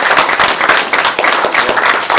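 An audience claps at a roast event, giving loud, close, dense applause with sharp individual claps that carries on without a break and with little talk over it.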